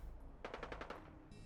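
Rapid burst of about six gunshots from a weapon in Fallout 4, evenly spaced and fairly close, over a low game ambience with no talk.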